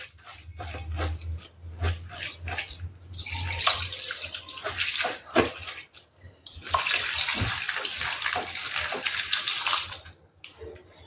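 Flattened rice (poha) is washed and stirred by hand in water, giving irregular splashing and sloshing bursts that come and go, fairly close, with a faint low hum at the start.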